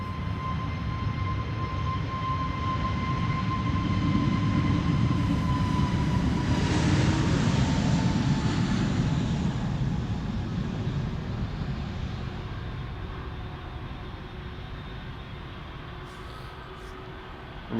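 An Aer Lingus A321neo jet airliner at Amsterdam Schiphol Airport gives a sustained engine roar heard from a distance, swelling over several seconds with a high whine gliding downward, then slowly fading.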